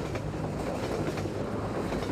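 Train rolling into a station in the video game Half-Life 2, steady rumbling wheels with rhythmic clickety-clack, close and continuous.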